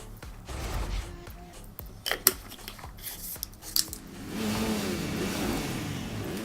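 A car engine revs and accelerates in Forza Horizon 4 on a dirt road, with scattered sharp clicks and knocks at first, then a rising, sustained engine roar near the end.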